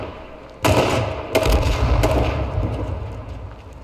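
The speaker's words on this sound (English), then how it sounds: "They're shooting each other." Gunfire in the battle royale game H1Z1 King of the Kill, with sharp broadband shots starting near the one-second mark and another pair later, over a constant low rumble of the game's ambience, with no talk.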